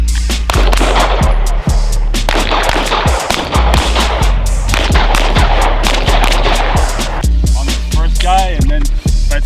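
Sig Fuse pistol fired on a shooting range, a rapid run of loud, sharp gunshots cracking one after another over a steady background rumble.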